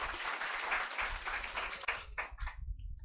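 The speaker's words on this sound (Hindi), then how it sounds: "जोरदार तालियां।" Students in a classroom clap together in a burst of applause that holds for about two seconds and then thins to a few scattered claps, somewhat faint.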